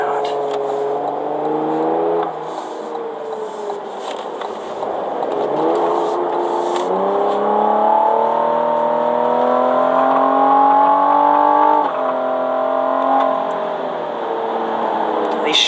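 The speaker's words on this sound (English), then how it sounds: "These shifts are super quick, and you can hear also in track mode, it'll give you a little bit of a downshift under braking" A car engine in track mode revs up through quick gear shifts and then blips on downshifts under braking, a steady interior drone that rises and falls in pitch at each change.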